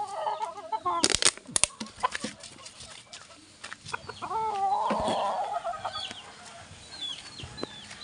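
A sweater kelso gamefowl rooster clucks in short, near bursts among other farm bird calls, with someone talking quietly in between.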